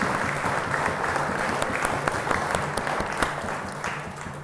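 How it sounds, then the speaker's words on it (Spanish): Dense, steady applause from a congregation at a Mass honoring the Virgen de Chochis, fading slightly toward the end. "Le damos un saludo y un aplauso"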